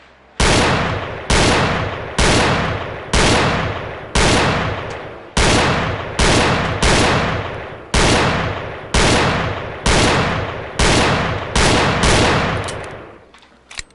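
Gunfire at a gun club: about fifteen loud, sharp shots fired one after another in a steady rhythm, each cracking out and decaying before the next, with no talking.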